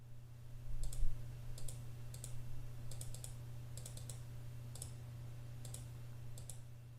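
Light plastic clicks of calculator buttons pressed in small clusters while an exponent is entered, close and faint over a constant low electrical hum.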